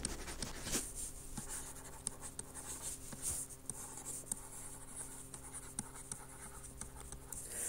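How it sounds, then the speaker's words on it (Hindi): Chalk scrapes and taps across a board in a lecture hall while a professor writes during an economics class, a steady run of short strokes at close range with no one speaking. "मैं यहाँ पर लिखता हूँ"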